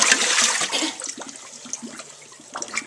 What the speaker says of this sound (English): Dump that dirty water out.